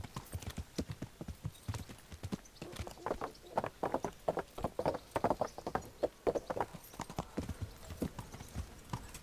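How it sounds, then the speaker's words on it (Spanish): Horse hooves clip-clop steadily at close range in the medieval video game Kingdom Come: Deliverance, a fast rhythmic run of hoofbeats that holds through the whole stretch with no voices. "Y dejamos el caballito aquí."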